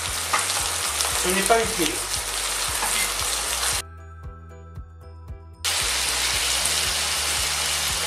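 Beef with onions and black mushrooms frying in a pan, loud steady sizzle with stirring clinks, cut by a short quieter gap of music-like tones before the sizzle returns; a voice speaks briefly.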